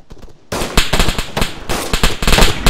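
Rapid bursts of automatic gunfire in the military shooter Arma 3, loud and close, starting after a quiet half-second lead-in and continuing in dense, irregular volleys with sharp cracks layered over one another.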